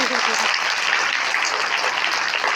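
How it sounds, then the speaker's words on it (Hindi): A school prize-day audience applauds a best-teacher award, a dense, steady wash of clapping filling the space for the whole stretch, with a few voices briefly audible at the start. "आप जोरदार ताली बजाएं"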